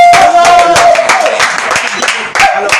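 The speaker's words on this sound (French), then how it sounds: "Est-ce qu'on peut applaudir?" Applause from a group of performers gathered in a radio studio, a short burst of clapping that carries on for a few seconds, with voices chatting over and around it.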